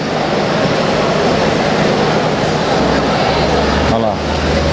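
A vibrating massage mattress motor at an expo gives a steady, loud mechanical rumble and hum that runs without a break throughout, with a slight change in texture near the end.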